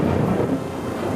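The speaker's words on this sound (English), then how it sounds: "From pop-up thunderstorms in the afternoon" Thunder from an afternoon pop-up spring thunderstorm: a continuous deep, broad rumble, fairly loud and steady throughout, with no voices.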